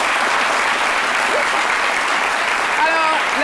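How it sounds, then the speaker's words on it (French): Studio audience applauding on a talk show, a loud, continuous roar of clapping filling the clip, with a few voices rising over it near the end. "Vous pouvez vous applaudir."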